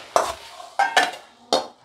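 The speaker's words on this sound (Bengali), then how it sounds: "ঘি গরম মশলা দিয়ে একটু নাড়াচাড়া করে এবার আমি নামিয়ে নেব" Banana flower curry (mochar torkari) finished with ghee and garam masala being stirred in a pan, giving three distinct scraping stirs with a light sizzle, close and fairly loud, no voices.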